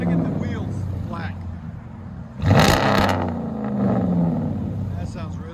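A RAM 1500 with a 5.7L HEMI V8 and a Black Horse Racing exhaust idles, then gives one brief, loud rev burst midway before settling back, with people talking over it throughout.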